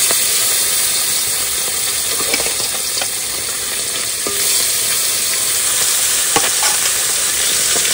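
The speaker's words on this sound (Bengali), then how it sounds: "তেল গরম হয়ে গেছে, এবার মাছটা ভেজে নেব।" Fish rubbed with salt and turmeric fries in hot oil in a pan, a loud continuous close sizzle with occasional sharper spits and soft stirring sounds, no talking.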